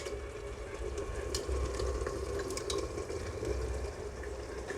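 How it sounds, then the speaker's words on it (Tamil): Mutton coated in masala sautés in a pressure cooker with a steady, close sizzle and frying crackle that runs evenly throughout, with no talk. "கொஞ்சம் நேரம் ஒரு 5 மினிட்ஸ்க்கு நல்லா வதக்கிக்கோங்க"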